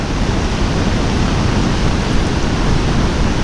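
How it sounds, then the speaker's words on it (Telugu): Athirappilly waterfall in full, strong flow gives a loud, dense, unbroken roar of rushing water, steady throughout with no voices. "చూడండి ఎంత ఘోరంగా ఉందో ఫ్లో. సో ఇప్పుడు వచ్చి అత్రపాలు వాటర్ ఫాల్"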